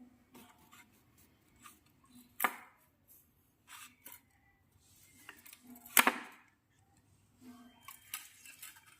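A knife trims the sides off an aloe vera leaf, leaving quiet, sparse cuts and scrapes spaced irregularly, with two sharper, louder slices standing out near the mic.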